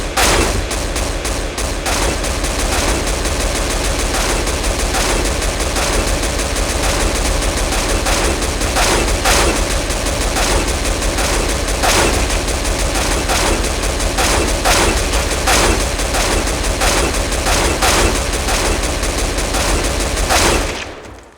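Counter-Strike SG rifle tap-fired in rapid short bursts, sharp repeated shots sounding steadily and loudly for about twenty seconds with no talking.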